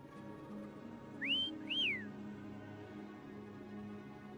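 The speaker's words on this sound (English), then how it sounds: "Try whistling." A game character whistles in Wuthering Waves: two rising-and-falling whistled notes, clear and close, over a quiet ambient music bed.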